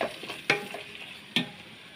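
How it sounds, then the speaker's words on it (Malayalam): Chopped onions and tomatoes sautéing in oil in a pan, giving a steady close sizzle with two sharp scrapes of a spoon being stirred through. "ഇത് നമുക്കൊന്ന് വഴറ്റിയെടുക്കാം."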